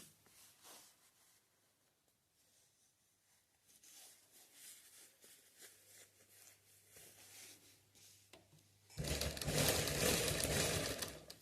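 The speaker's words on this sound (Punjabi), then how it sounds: "ਇੱਥੇ ਜਮਾ ਨੁੱਕਰ ਤੇ ਆਪਾਂ ਸਲਾਈ ਲਾਉਣੀ ਆ" A sewing machine stitches the corner of fabric slippers made from upcycled clothing sponge, faint rattling early on, then a loud, close burst of fast whirring stitches near the end.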